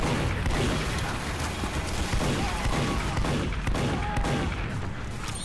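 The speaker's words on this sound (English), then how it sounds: "Shooting them with the revolver" Dense gunfire and booms in a Team Fortress 2 match, including the Spy's revolver shots among other weapons, sound steadily and loudly, with the revolver's individual shots not clearly separable from the wider battle.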